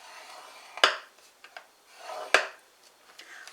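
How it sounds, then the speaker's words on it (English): A small ball tool scores cardstock on a scoreboard for a gate fold card. Two soft, close scraping strokes are each marked by a sharp rub, with lighter scratches and taps between them. "we're going to score this at 2 inches, and we're using a small ball"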